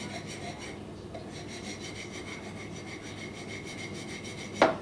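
Close, steady rasping of a file or sharpening rod working across the serrated teeth of a Cutco cheese knife, scraping off burrs in a repeated stroking rhythm with a brief louder scrape at the end.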